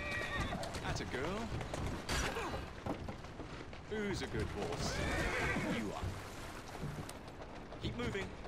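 Horses in Assassin's Creed Syndicate neighing and whinnying repeatedly while hooves clip-clop steadily, with a carriage rolling along and a voice talking over the animals throughout.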